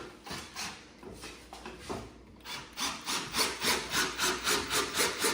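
Rhythmic rasping strokes of screws being driven into pre-drilled eucalyptus wood on a patio rocking bistro set, starting uneven and settling into a steady, fairly close repeating grind.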